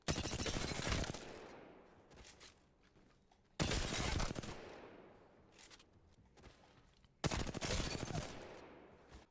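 Three long bursts of automatic gunfire from an unstabilized weapon in Apex Legends, each a loud sustained rattle lasting about a second with quieter footsteps and movement between the bursts.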